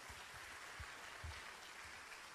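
Applause from a church congregation, a steady broadband wash of clapping with some louder low thumps, sustained throughout at moderate level with no talk.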